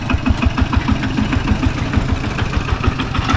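A farm tractor engine runs close and loud while hauling cow-manure dust to a rice field, chugging in a fast, even rhythm of thumping pulses over a constant rumble.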